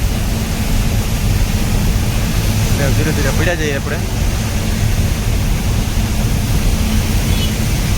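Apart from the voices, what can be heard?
heavy rain while riding through Raipur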